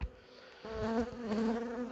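Honeybees buzz at a hive during beekeeping work, a close, dense droning hum that swells after a brief quieter start, alone and fairly faint.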